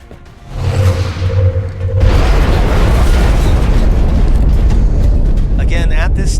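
A Shredder Rocket fired in XCOM: Enemy Unknown hits with a loud roaring blast that swells and then rumbles on steadily, preceded by a brief low mechanical hum.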